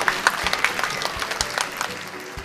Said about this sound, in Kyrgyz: Ал эми уларабызга да кол чабуулар болсун